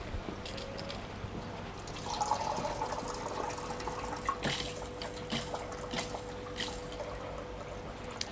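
Water trickling and splashing steadily as an aquarium is filled from the sand side, a soft, continuous pour with faint drips, close by and alone, no talking.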